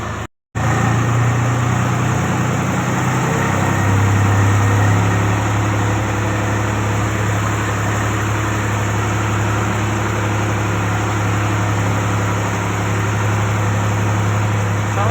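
A heavy tractor engine drones steadily and loudly throughout, a low continuous rumble under strain with no breaks as it pulls a sand load uphill, close by and with no voices.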